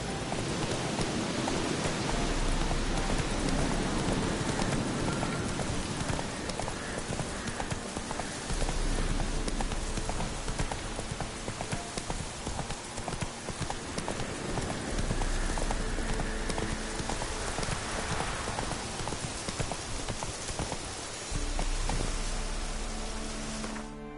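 Roach, the horse in The Witcher 3 on PS4, trots with continuous rhythmic hoof clops over a dense wash of rain and ambient game sound, steady and moderately loud for the whole stretch.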